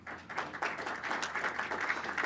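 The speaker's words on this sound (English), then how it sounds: "Everybody, a round of applause for Sarah Drasner." Audience applause in a live online developer event, a steady wash of clapping at moderate level running the whole moment with no speech over it.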